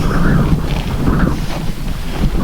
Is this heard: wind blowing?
yes